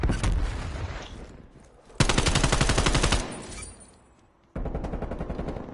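Gunfire in a Call of Duty esports match: loud automatic bursts in rapid, dense volleys, separated by quieter pauses, with no talk over them.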